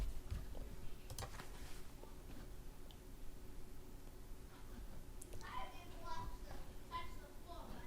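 Someone types on a computer keyboard, a scattered run of soft clicks mixed with a few mouse-like taps at moderate distance, with faint background voices and room hum running underneath.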